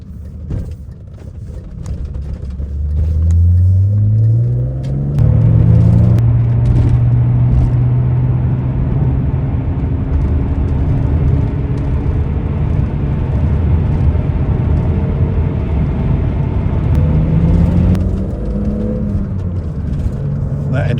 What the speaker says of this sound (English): That engine makes such a lovely sound.